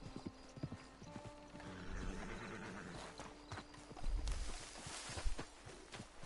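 Hooves clip-clop in an uneven rhythm in Red Dead Online, mixed with a whinny and some clattering, fairly faint.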